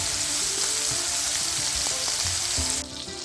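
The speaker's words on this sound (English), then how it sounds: "I'll be using that leftover bacon grease to cook the patties in." Burger patties fry in leftover bacon grease, a loud, dense sizzle with crackling pops filling the whole stretch and easing slightly at the end.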